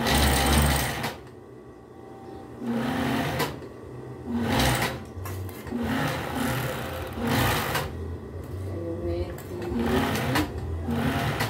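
A sewing machine stitches a seam on children's clothing in quick whirring bursts separated by short pauses. Someone talks over and between the bursts.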